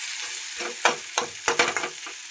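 Onion and mutton masala fries in a pan with a soft, steady sizzle while a spoon stirs it in several quick scraping strokes, close up and without talk.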